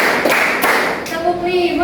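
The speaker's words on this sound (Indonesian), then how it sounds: "Tepuk 1, tepuk 2, tepuk 3, tepuk 4," Classroom of students clapping hands in a counted rhythm during a teaching practice session, loud sharp claps in quick groups, with a teacher's voice counting over them.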